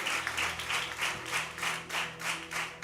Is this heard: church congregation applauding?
yes